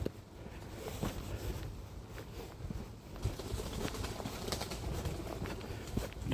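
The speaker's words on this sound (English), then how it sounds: "Disturbing the birds," Pigeons cooing softly in woodland near an old railway line, faint low calls scattered over a quiet outdoor background, with light rustling and no talking.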